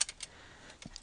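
A few soft, quiet clicks of keys on a computer keyboard while notes are typed into a client record, scattered taps with faint pauses between them.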